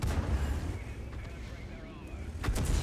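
A World of Tanks tank cannon fires, a heavy low boom rolling out at the start, with another thudding shot near the end amid game rumble.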